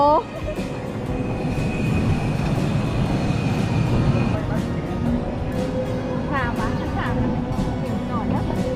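A train rolls past at a railway crossing in Sakon Nakhon, Thailand, a loud continuous rumble with squealing wheels, while people talk nearby.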